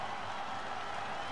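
Wrestling arena crowd in WWE 2K22 cheering and applauding, a brief steady wash of distant crowd noise.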